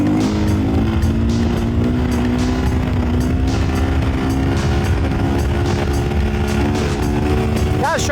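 A Sherco 500SM Factory supermoto motorcycle engine runs loud and close with a steady droning hum and a rough, buzzing texture throughout.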